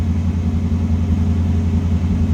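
Low, steady engine idle of a 1979 Pontiac Firebird Trans Am rumbling continuously at a lower pace after coming off high idle, close by, with no voices.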